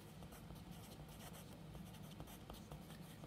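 A pen scratches steadily across paper as numbers are written out by hand for a math problem, a continuous soft scraping with small strokes, quiet and close, without talk.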